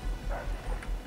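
Puppies bark and yip in a video game, a short run of soft, rhythmic woofs at moderate distance with no talking.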